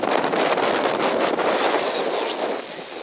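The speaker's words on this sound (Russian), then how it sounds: "сегодня помешал сильнейший ветер." Strong wind roars and buffets the microphone in loud, continuous gusts by the Sysola river, with no voices present.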